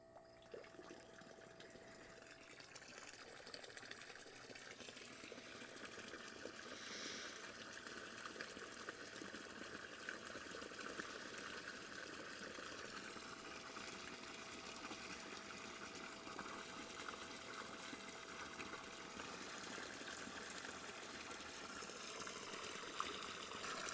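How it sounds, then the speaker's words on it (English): A pond pump pushes water into a newly reconfigured bog filter, giving a steady, continuous rush and trickle of running water with a low mechanical hum underneath. It stays even throughout, fairly close and alone, with no voices. "we plugged it in, and we're just going to let the water rise with this new configuration"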